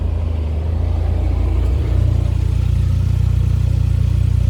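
A Vauxhall Corsa B engine idles with a steady low rumble, then shifts into reverse, and the tone steps to a slightly heavier, louder hum that holds on, close by.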